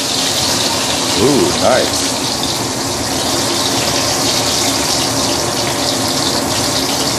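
Chinese pomfret deep-frying in hot oil, a steady dense sizzle and bubbling that fills the whole stretch without pause, with a brief spoken remark early on over the frying.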